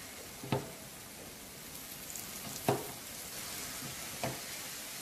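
Small flatbreads frying on a hot oiled griddle over medium heat, giving a soft steady sizzle with three brief scraping or flipping clatters spaced a couple of seconds apart, close and quiet, no talk.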